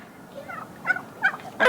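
A penned homestead turkey gobbles in quick rattling bursts, close and clear, with three or four rapid calls over under two seconds.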